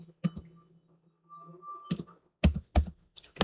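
A command typed on a computer keyboard while configuring a network in a VirtualBox machine: a few isolated clacks, then a quick burst of several sharp keystrokes, close and dry.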